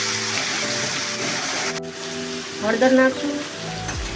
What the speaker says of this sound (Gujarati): ઘડી તેને સસડવા દઈશું તેલમાં.